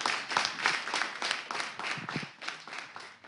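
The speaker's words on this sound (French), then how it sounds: "On applaudit, on applaudit." Audience applause at a talent competition broadcast, a steady wash of many hands clapping with uneven swells that carries through the whole stretch, fairly close and moderately loud.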